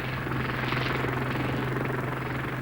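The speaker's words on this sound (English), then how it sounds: "The Westland Lynx is undoubtedly the best helicopter yet developed in the UK" A Westland Lynx helicopter with twin turboshafts and a semi-rigid main rotor drones steadily nearby, a continuous whining turbine hum over a dull rotor throb with no talk.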